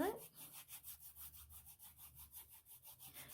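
Foot rasp filing the skin of the heel during a home pedicure, a quiet, close rhythmic scraping of steady back-and-forth strokes, about six per second, with no talk.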